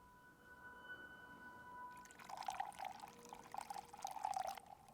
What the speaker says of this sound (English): You can hear that water spilling.